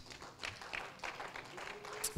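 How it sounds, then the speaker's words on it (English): A church congregation applauds with scattered, uneven hand claps, quiet and somewhat distant, blending with low room murmur for a couple of seconds. "give the Lord another hand clap of praise"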